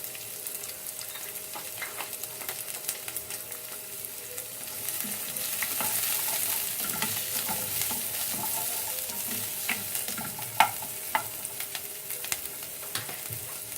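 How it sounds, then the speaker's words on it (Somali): Chopped white onion sizzles and fries in a pan, stirred with a utensil that scrapes and taps now and then, the steady crackle growing louder partway through with no talking. "haddana waxaan ku shubayaa basal yar oo cadkiisa"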